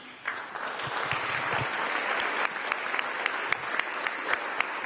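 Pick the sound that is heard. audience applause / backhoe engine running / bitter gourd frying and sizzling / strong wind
audience applause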